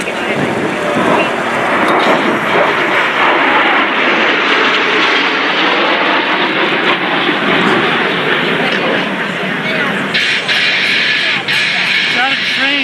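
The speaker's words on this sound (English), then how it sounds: "coming from the right, ladies and gentlemen, the Warrior Flight Team and the L-39s with the smoke on" L-39 jets of a formation flight team roar past at an air show with smoke on, a loud sustained engine rush with wind buffeting, and an announcer talking over it throughout.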